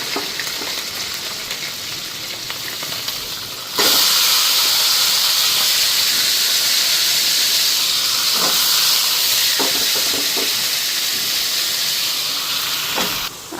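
Vegetables hit a hot pan already frying dried fish, and the steady sizzle jumps louder midway into a loud, dense hiss with occasional scraping stirs.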